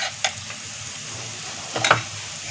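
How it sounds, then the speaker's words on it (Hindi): A chicken burger patty fries in a pan with a steady low sizzle, marked by a few brief stirring or scraping clicks, the loudest burst near the end. "लाइट पिंक होने के बाद हम इसकी साइड जो है वो चेंज कर लेंगे और दूसरी साइड को भी इसी तरह पकाएंगे"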